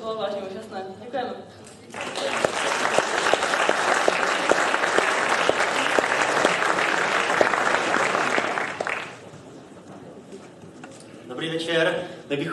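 Audience at a Strážnici anniversary celebration of the Danaj folk dance ensemble breaks into loud, sustained applause lasting several seconds, with talk before and after.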